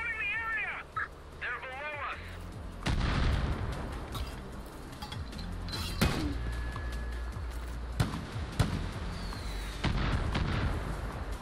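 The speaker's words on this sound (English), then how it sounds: "Use the mortars, dude." Mortar fire in Far Cry New Dawn during an outpost fight, heavy booms and sharp blasts spread across the stretch, mixed with gunfire, game effects and a voice talking over it.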